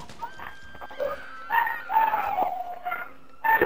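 A dog in a video game barks and yaps in short, repeated bursts, close and fairly loud, separated by brief quiet gaps.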